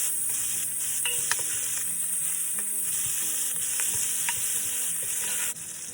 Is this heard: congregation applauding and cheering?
no